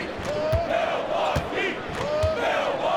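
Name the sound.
hostile arena crowd cheering in video game NBA 2K24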